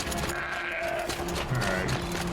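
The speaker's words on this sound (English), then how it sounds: "Looks like there's a goat there." A goat in Horizon Zero Dawn gives a few short, wavering bleats over a steady ambient game backdrop.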